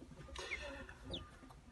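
Soft clucks from a broody Gurk hen with a brief higher chirp, heard over a steady low hum of a barn or incubator, fairly close and moderately quiet.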